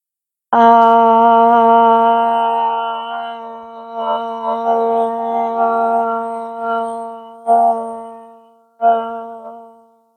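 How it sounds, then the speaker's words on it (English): A sustained vocal drone of Om rings out, loud and resonant, then softer repeated hums follow with short pauses between them. "Join in with me for the sound of Om."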